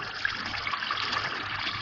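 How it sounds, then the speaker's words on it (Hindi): Water pours steadily into a pan of masala fish curry gravy, a continuous close splashing trickle with no talk. "फिर इसमें जितना आपको ग्रेवी रखनी है इसकी उसके हिसाब से पानी डाल दूँ"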